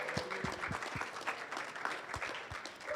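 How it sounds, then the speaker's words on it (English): Conference audience applauds the event organisers at a cybersecurity panel, steady dense clapping for about three seconds with a few sharper nearby claps standing out. "let's have a round of applause for Kim and her team for putting on this great event"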